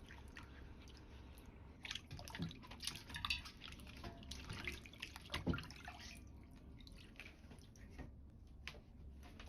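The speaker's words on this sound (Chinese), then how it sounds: "接着把西芹和胡萝卜放入水中清洗干净。" Celery and carrots being washed in water, with soft splashes, drips and rubbing sounds close by at a quiet level, irregular and without speech.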